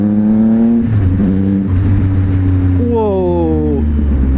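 A Triumph Speed Triple RS motorcycle engine revving during a test ride, its pitch rising and falling in two clear surges over a steady droning idle, close and loud.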